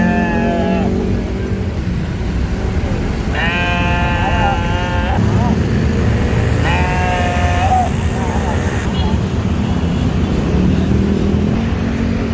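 Sheep bleating repeatedly ahead of an Eid al-Adha sacrifice, several drawn-out wavering cries close by, with people talking steadily underneath throughout.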